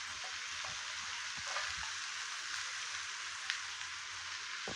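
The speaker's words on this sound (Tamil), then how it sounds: "இப்போது வெங்காயம் வதங்கிருச்சு. இப்போது கேரட் சேர்க்குறேன்." Onions and carrots sauté in a pan for carrot rice, giving a soft, continuous sizzle with faint scraping stirs throughout.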